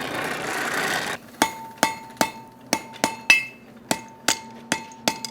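Hammer blows on a forge-welded 3/8 inch steel chain link: about a dozen sharp, ringing metallic strikes at an irregular steady pace, close and loud, following a second of forge roar.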